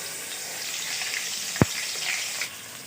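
Onion, ginger and garlic paste frying in hot oil gives a soft, steady sizzle, with one sharp knock partway through, probably from a utensil.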